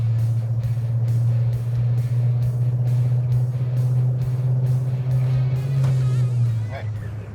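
A Nissan GT-R overtakes while cars race on a track. A loud, steady engine drone holds throughout and eases off slightly at the end.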